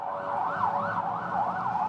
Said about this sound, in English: It's required to do a lot of sirens when important people go by.